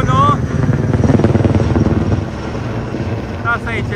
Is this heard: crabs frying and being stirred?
no